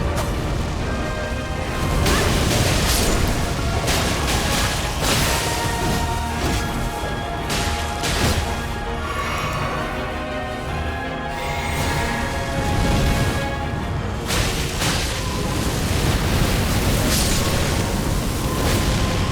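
An enemy exploding in Elden Ring: a sustained, loud, dense rumble of blasts and crashing debris with whooshing bursts, continuous throughout with no pauses.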